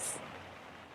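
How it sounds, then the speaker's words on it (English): Soft, steady rain patters outside as a gentle continuous hiss, fairly faint and with no voices. "It is, it's raining and it sounds so pretty."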